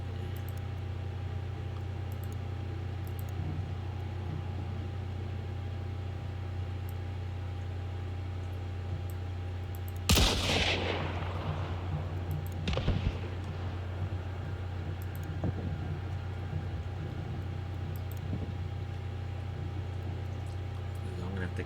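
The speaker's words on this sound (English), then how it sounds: "that sounds like a small explosion, not so much gunfire" A small explosion in a PC video game bursts out sharply about midway, followed a couple of seconds later by a weaker second blast, both over a steady, fan-like electrical hum.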